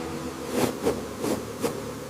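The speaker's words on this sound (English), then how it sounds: "Don't panic around the bees." Honey bees buzz around a hive in a few close, droning swells, each rising and fading over a steady low hum.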